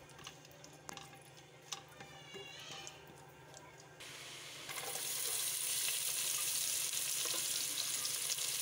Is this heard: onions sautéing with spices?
yes